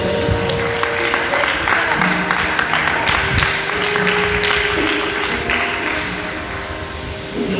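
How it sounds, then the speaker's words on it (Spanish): A church congregation at a Spanish-language youth campaign service applauds, dense clapping with a voice speaking over it, loud and close, tapering slightly at the end. "Dale un aplauso al Señor"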